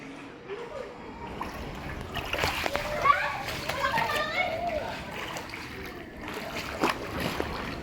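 Flood water splashes and sloshes continuously as someone wades through a flooded street in Barangay Calayo, Nasugbu, Batangas, Philippines, during Typhoon Dante, with children's voices and chatter in the background.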